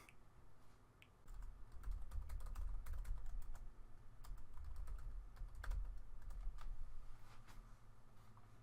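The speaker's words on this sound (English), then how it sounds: "So type in the email address" Steady typing on a computer keyboard while an email address is entered, a close run of quick soft key clicks with a few louder strokes, no voices.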